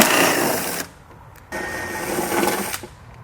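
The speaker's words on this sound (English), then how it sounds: "we're going to grab a 8mm socket, and we're going to remove the 4 bolts that are holding that plastic retainer in place" Power tool with an 8mm socket backing out bolts from a plastic bumper retainer, two loud whirring bursts separated by a short pause, close up, no voices.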